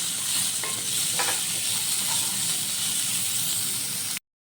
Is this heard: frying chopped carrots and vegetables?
yes